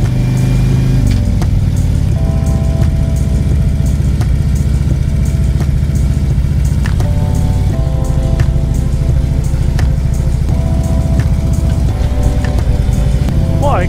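A car drives a gravel stretch of the Trans Labrador Highway, with steady loud engine and road rumble, constant crunching tyre noise and a few brief bumps throughout.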